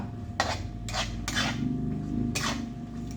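Spoon scraping and stirring a chocolate bread mixture in a bowl, four distinct strokes against the bowl over a steady low background hum, close and moderately loud, no talking.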